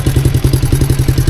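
A Honda 200 motorcycle with its baffles still fitted idles close by, its single engine thumping out a steady, even rhythm of rapid pulses, loud and alone.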